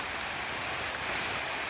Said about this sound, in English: This morning, yeah, I am getting rained on.